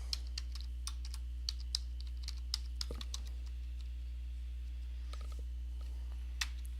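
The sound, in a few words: typing email address on a computer keyboard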